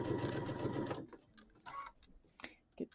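A sewing machine hums rapidly for about a second while stitching quilt pieces with a quarter-inch seam, then stops, leaving scattered clicks and fabric handling noises nearby.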